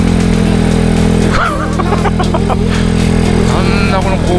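An ordinary motorcycle labours up a steep hill road in Tochigi, its engine holding a steady, loud drone close by, with brief higher-pitched sounds rising over it partway through.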